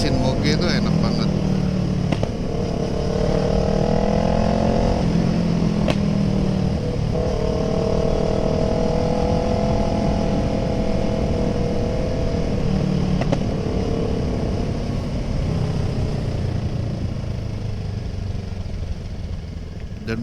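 A Kawasaki ER6N motorcycle engine runs steadily on a quiet Saturday morning road, a loud, close mid-pitched drone that rises and falls slightly with throttle, with someone talking over it.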